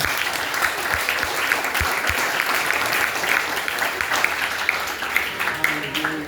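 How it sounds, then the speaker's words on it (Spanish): A church congregation applauds the Lord in a steady, dense wash of clapping that carries through the whole stretch, with scattered voices and cheers mixed into the crowd noise. "Den un aplauso al Señor"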